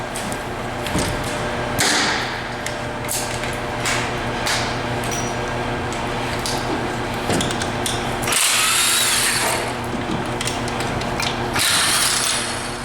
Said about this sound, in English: we can go ahead and take the 4 extension housing bolts out